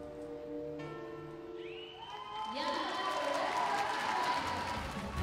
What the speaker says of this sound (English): now with the crowd clapping along to her performance